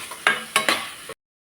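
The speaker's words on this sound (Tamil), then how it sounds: "நல்லா கிளறி விட்டுருவோம்." Masala sundal stirred in a pan on the stove, a spoon scraping through the chickpeas in three or four close, sizzling strokes over about a second, with no talking.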